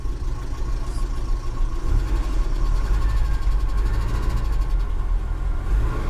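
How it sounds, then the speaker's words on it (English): A carbureted old Ram 50 mini truck engine idles loudly and close, a steady low rumble with a rough rhythmic throb throughout. "Oh, the engine quieted up nice."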